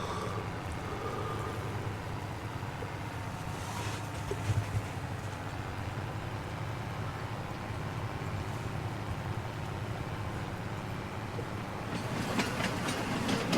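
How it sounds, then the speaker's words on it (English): A train in Farming Simulator 22 rolls past at a moderate distance, a steady rumbling clatter of wheels on track that swells slightly toward the end. "There is said train."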